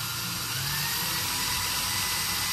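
A high-pitched power drill whines steadily while boring a pilot hole through the blue and black plastic of a Wet & Forget Extreme Reach spray nozzle, close and continuous throughout.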